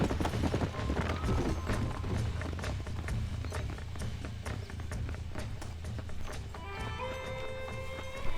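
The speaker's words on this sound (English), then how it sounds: "Wild horses." Horses gallop in the Red Dead Redemption western video game, dense rapid hoofbeats pounding steadily throughout with occasional whinnies, layered over game music that brightens into sustained tones near the end.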